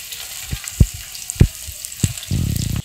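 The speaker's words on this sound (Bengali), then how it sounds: "রসুনটা একটু ভেজে নেব" Crushed garlic fries in hot oil with a steady crackle. Several sharp spatter pops break through, and a louder burst of sizzling comes near the end, close up with no talking.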